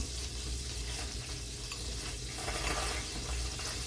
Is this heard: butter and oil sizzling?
yes